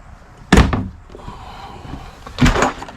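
Drawers in a 2018 Jayco White Hawk 26RK travel trailer sliding open, two short wooden thuds and rattles about two seconds apart, close and fairly loud with quiet room tone between.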